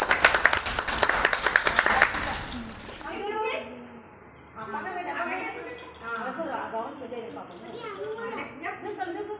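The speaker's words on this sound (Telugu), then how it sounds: "క్లాప్స్ కొట్టండి" A UKG class of young children claps in a burst of rapid, close claps for about three seconds, then a teacher and children talk.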